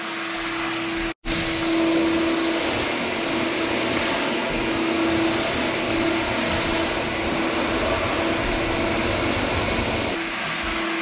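A vacuum cleaner runs on a wood floor during final cleanup before coating, a loud, steady motor drone that cuts out for a moment and then drones on, with a slight change in tone near the end.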